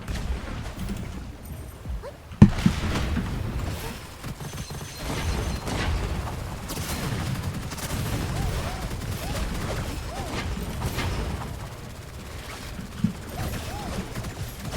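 Gunfire Reborn shooter gameplay with steady dense weapon fire and mechanical clatter running throughout, a sharp louder shot standing out early, with speech throughout.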